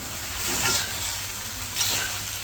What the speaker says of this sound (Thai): เราก็ผัดอีกสักระยะหนึ่ง